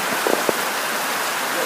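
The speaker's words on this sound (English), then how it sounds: "This is Monsoon Rain. It is crazy." Heavy monsoon rain that blew in suddenly pours in a dense, steady hiss, close and loud, with a few brief knocks near the start.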